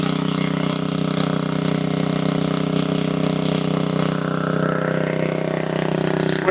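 Malcolm Bendall's Thunderstorm Generator engine runs at a steady idle, a constant close droning hum with a low rhythmic pulse and no change in pace.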